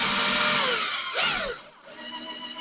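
A power drill fitted with small, cheap drill bits whines at high speed, then winds down and briefly spins again, a close, loud mechanical whir heard alone during moped engine work.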